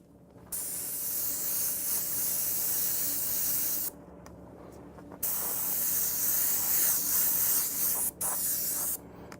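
Airbrush spraying paint through a stencil in steady hissing bursts, with two brief pauses where the spray cuts off, close and fairly loud with no talking.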